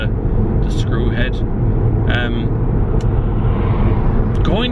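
A car creeps slowly along a motorway on a flat tyre, giving a loud continuous road and engine rumble with brief higher squeaks and noises over it.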